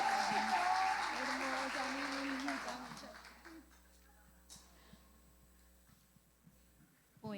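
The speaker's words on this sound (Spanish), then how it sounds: "nuestra amada pastora Clarita Briceño con un gran aplauso." A church congregation applauds to welcome a female pastor, with a loud spread of clapping that dies away after about three seconds and leaves quiet room tone with scattered small noises, and a voice speaks over part of it.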